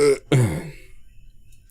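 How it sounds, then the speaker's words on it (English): Close burp into a microphone, two short guttural bursts in quick succession followed by quiet room noise. "Could you maybe just have a little bit of civility and not burp in my ear?"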